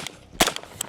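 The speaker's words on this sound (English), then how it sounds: "That shot was high" A single sharp rifle shot cracks out in a video game, one brief loud report amid faint background game noise.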